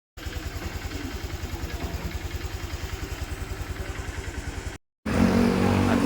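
A Honda motorcycle engine putters in a steady fast rhythm as the bike pulls away, the beat holding close and even, then a brief cut gives way to louder, rougher traffic noise.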